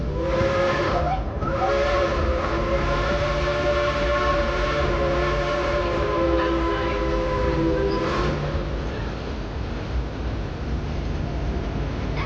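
A steam train at Dollywood in the Smoky Mountains chugs and rumbles steadily while a long, multi-toned whistle sounds for several seconds before fading into the rolling noise.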